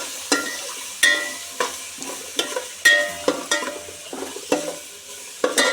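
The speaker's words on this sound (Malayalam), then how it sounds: "നല്ലോണം ഇളക്കി കൊടുക്കാം." Food cooking in a pan is stirred with a utensil, producing sharp, regular scraping and knocking strokes about every half second over a light background sizzle, close and clear.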